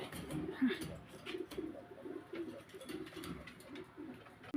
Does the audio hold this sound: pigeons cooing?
yes